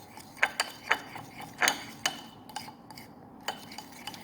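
A homemade teeth-whitening paste being stirred in a small container, a spoon scraping and clinking in a loose irregular rhythm of close, crisp taps.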